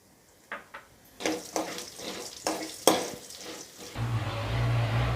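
Coriander seeds roasting in coconut oil in a kadai for fish curry, heard as a series of soft scraping stirs with quiet gaps, then a steady hissing sizzle near the end.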